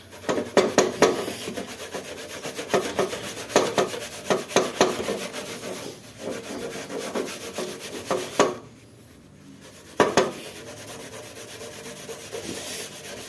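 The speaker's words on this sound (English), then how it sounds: "let me just lightly scrub this area" A heavily greased, dirty gas stove is scrubbed with short, vigorous back-and-forth rubbing strokes. The strokes come close and fairly loud, stop briefly near the end, then resume more lightly.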